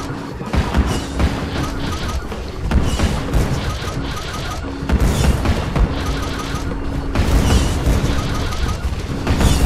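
Dense gunfire and booming blasts in The Maw video game on the Speeder Lane level, a loud, continuous barrage of rapid shots and crashes with rhythmic bursts throughout.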